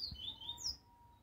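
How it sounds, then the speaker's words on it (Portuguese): Caged coleiro (double-collared seedeater) birds sing with thin high chirps and a sweeping whistle, faint and a little distant, against a quiet indoor background. "Ó, os pássaros tudo cantando."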